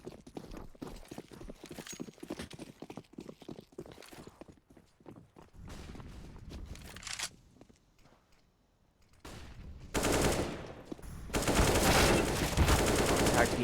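AK-47 gunfire on the Mirage map in Counter-Strike, a fast run of sharp rhythmic shots at the start, quieter sporadic bursts, then dense loud firing toward the end.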